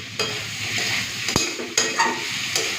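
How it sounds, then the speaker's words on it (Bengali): Soybean chunks are stir-fried with potato, pointed gourd and spices in a pan, giving a steady close sizzle broken by several sharp spatula scrapes and taps, with no talk. "সয়াবিনটা দিয়ে আলু পটলের সাথে আরও কিছুক্ষণের জন্য ভালো করে কষে নিতে হবে"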